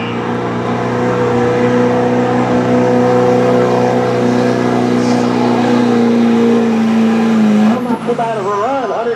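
A 2003 GMC diesel 4x4 truck in a street truck pull bellows under heavy load with a long, sustained high-revving drone, then the engine note dips and wavers as the run ends.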